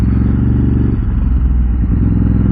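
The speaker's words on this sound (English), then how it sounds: "that exhaust, which I'm sure you can hear is roaring in the background" A Ducati Desert X with a modified exhaust, ridden off road, gives a loud, steady low engine rumble close by, holding a constant drone without obvious revving or speech.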